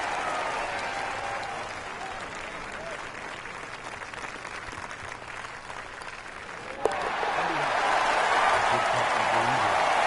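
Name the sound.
crowd applauding a golf putt at a PGA Tour event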